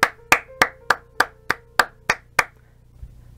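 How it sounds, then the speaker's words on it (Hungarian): Slow, evenly spaced hand claps, about nine in a row, ring out in the video game Hunt Down The Freeman, sounding like a single person applauding before fading into quiet. "Hatalmas taps."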